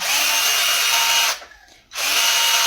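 An XTITAN cordless drill runs with a loud, steady, high-pitched motor whine close by. It cuts out for about half a second, then spins back up to full speed, with no talking.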